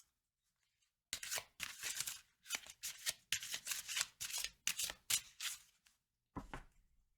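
A deck of oracle cards is shuffled up close after a brief silence. Rapid crisp rustling and riffling bursts repeat in short bouts, then a pause and a final flick as a card is drawn.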